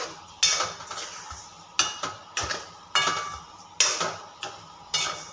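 A metal spoon strikes and scrapes a pot while stirring a sugar mixture, giving sharp clinks in a loose rhythm about once a second, each trailing off into a short ring, close and clear with no talk.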